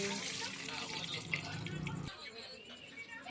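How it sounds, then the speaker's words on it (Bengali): Water poured into a wok on the stove for cooking Maggi noodles, a steady close splash and trickle that cuts off sharply partway through, with faint background noise. "কড়ার মধ্যে দিয়ে দিলাম জল"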